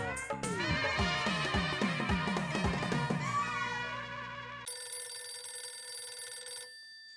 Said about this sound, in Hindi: भीड़े का फोन, मतलब भीड़े को भी मालूम पड़ गया?